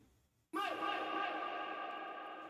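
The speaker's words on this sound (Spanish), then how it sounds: "la idea de este delay es exagerar el estéreo de la reverb anterior" A ping-pong stereo delay applied to a vocal reverb in a studio mix, soloed so the wet effect is heard on its own: a loud, sustained wash of echoing vocal tone that swells in and holds for about two seconds.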